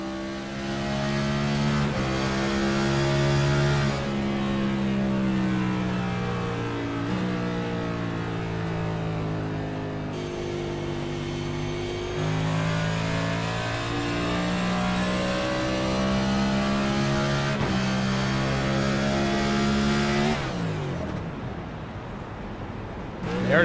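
Raymond Hanneman's 85 dirt bike engine on the Gateway track, a steady mid-pitched drone holding loud and close for most of the stretch with shifting revs, backing off near the end.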